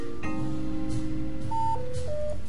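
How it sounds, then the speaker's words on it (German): A landline telephone rings indoors, its electronic tone pattern repeating a few times at moderate level over a steady background hum, with no voices. "Psch, Telefon, Ruhe da oben."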